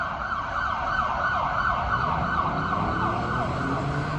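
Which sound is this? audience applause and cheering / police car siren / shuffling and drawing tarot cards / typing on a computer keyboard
police car siren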